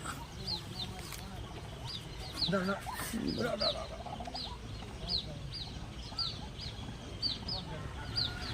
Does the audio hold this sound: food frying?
no